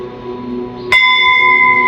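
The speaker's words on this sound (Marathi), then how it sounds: "तसमईला घंटा वाजवायची." A temple bell at a Ganesh temple is struck once, loud and close, after a low background hum, then rings on with a steady, bright sustained tone.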